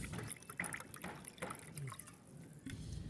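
Water poured into a glass of lemon sherbet made with lemon juice, giving soft intermittent splashing and trickling sounds, faint and close, with no talking.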